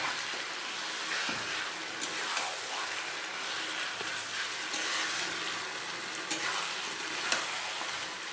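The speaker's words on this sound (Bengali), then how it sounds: "এবার আমি মাটনটা এর মধ্যে দিয়ে দেবো।" Mutton stirred through fried onions in a hot pan gives a soft, continuous sizzle with scraping stirs and occasional clicks of the spoon against the vessel, fairly quiet and close, with no talking.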